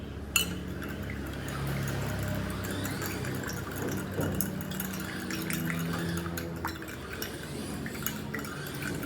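Water poured steadily into a glass while lemon water is prepared, a continuous liquid splash with occasional clinks of glass, fairly close and alone without talk.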